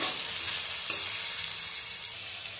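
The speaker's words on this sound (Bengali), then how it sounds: "চিনি দিয়ে একটু নেড়ে দিলাম" Red fried rice with sugar is stirred in a hot pan, giving a steady, bright sizzling hiss with one soft scrape of the spoon partway through.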